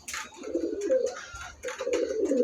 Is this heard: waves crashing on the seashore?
no